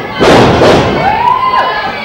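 A wrestler slams an opponent onto the ring mat after a side backbreaker at a wrestling match, giving heavy thuds over a loud crowd roar, followed by a rising whistle-like tone.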